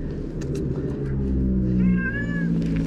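A cat gives a drawn-out meow close by, heard over a steady low rumble.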